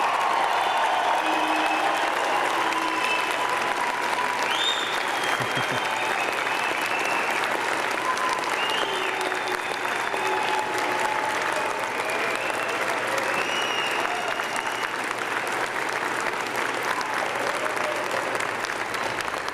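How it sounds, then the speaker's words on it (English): A large convocation crowd at Simon Fraser University applauds the graduating class in dense, sustained clapping that holds steady for nearly twenty seconds, with faint voices mixed into the wash. "I ask your friends and family to join with me in applauding the amazing graduating class of October 2012."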